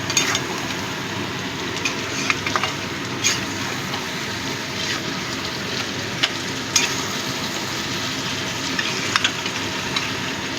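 Spice paste made with mustard and poppy seeds sizzles steadily in a frying pan, with repeated sharp scrapes and taps from a stirring spoon over the continuous frying.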